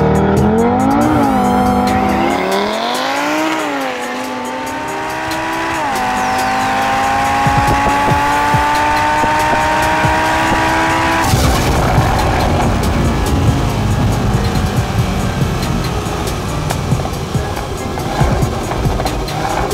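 A stage 3 tuned Audi TT RS launches hard, its engine climbing through rapid upshifts with tire squeal, then a loud sustained roar as it accelerates away, close and dominant.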